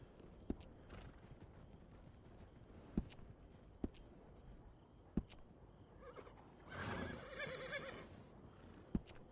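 A horse in a video game whinnies in a drawn-out neigh amid sparse sharp clip-clop hoof knocks spaced a second or two apart, fairly quiet with no speech.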